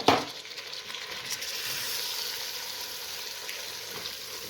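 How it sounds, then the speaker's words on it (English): Potatoes hit a hot pot for a biryani and fry with a loud, bright sizzle that flares at the start, then settles into a steady, close crackle for several seconds, with no talking. "I'm just gonna go ahead and add the potatoes."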